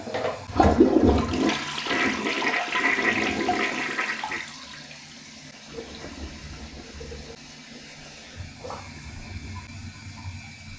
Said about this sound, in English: And I'm going to flush this one more time.